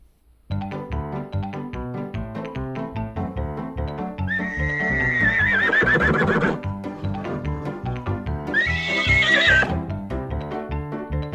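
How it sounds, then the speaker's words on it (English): Two loud horse whinnies, the first long and wavering, the second shorter, set against steady music in the background. "Horse."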